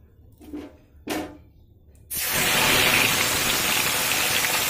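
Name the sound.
fish frying in hot mustard oil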